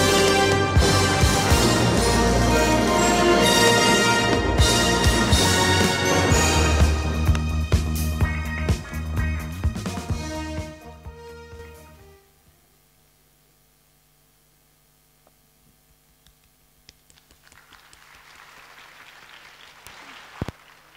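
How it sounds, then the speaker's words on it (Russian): Applause from an audience at a university student initiation ceremony, a dense steady roar of clapping that holds for about ten seconds, then fades out to near silence. "Ваши аплодисменты!"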